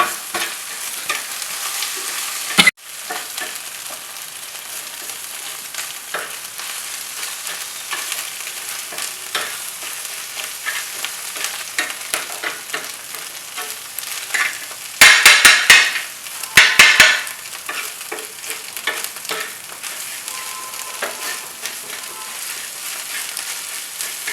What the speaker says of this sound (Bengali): দিয়ে আমরা এটাকে ভালো নাড়াচাড়া করে নেব। এটা হলো উচ্ছে দিয়ে ডিম।